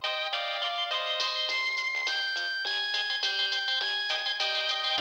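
A phone ringtone plays during a call in a Bangladeshi drama series, a steady melodic electronic tune with repeating notes that continues clearly and alone for several seconds.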